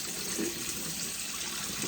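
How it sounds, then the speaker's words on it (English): Cold tap water pours over boiled eggs in a pot, a short steady gushing splash with no talking. "What you're gonna do is put some cold water, drain it"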